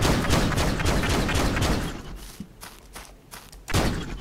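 Custom assault rifle in the space-building game Starship EVO, firing a dense, rapid burst of loud shots for about two seconds, then a few scattered thumps and one more sharp blast near the end.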